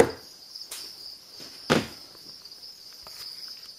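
Crickets kept in a breeding terrarium chirp in a steady, faint, high trill close by, broken by a few sharp knocks and handling clicks.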